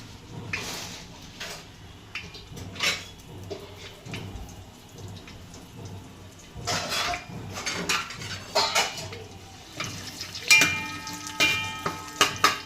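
Bay leaf and a pinch of asafoetida sautéing in oil in a pan for a village-style country chicken curry: a soft, low sizzle under repeated clattering scrapes and knocks of a utensil against the pan.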